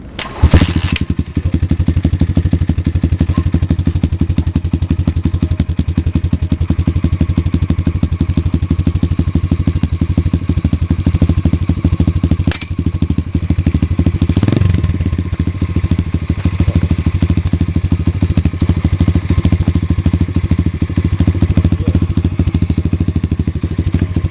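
An old pit bike is kicked into life and settles into a steady, loud idle, its even low engine drone running close by for the whole stretch with one brief blip partway through.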